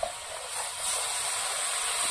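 Water poured into a hot pan of mustard okra curry sets off a sudden, loud hissing burst of steam that settles into a sustained, bright sizzle for about two seconds.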